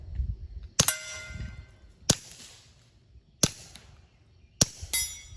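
A Keltec P17 pistol with a Rugged Mustang suppressor fires Norma TAC-22 subsonic .22 rounds: four sharp, close shots spaced about a second apart, each a crisp snap with a short metallic ring, without talk.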